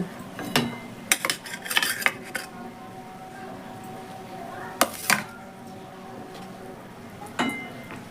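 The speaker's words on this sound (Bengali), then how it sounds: "এবার দিয়ে দেবো ভেজে রাখা বেগুন।" Fried eggplant pieces go into a simmering sauce in a cooking pan, giving scattered clinks and scrapes of utensil against pan, loud bursts near the start and middle, over a low steady bubbling.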